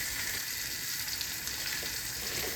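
Hilsa fish frying in a pan with oil, a dense steady sizzle and crackle heard up close, continuous and even.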